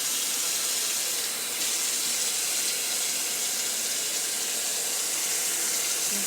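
Warm water runs steadily from a tap for several seconds, a continuous close hiss with no voices over it.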